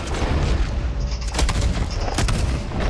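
Gunfire and booming shots in the Red Dead Redemption 2 video game during a chase by O'Driscoll gang members, loud and dense, with sharp bursts around the middle and again near the end over a constant rumbling backdrop.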